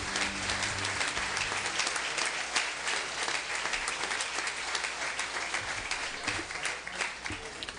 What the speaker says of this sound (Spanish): Por favor, un aplauso más fuerte